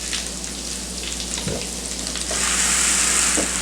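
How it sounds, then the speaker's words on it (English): Hash brown waffles cooking in a closed waffle iron give off a steady, dense sizzle and frying hiss that grows a little louder partway through, with a couple of faint clicks and no talking. "Then you are to close the waffle iron and cook for 15 minutes on regular setting."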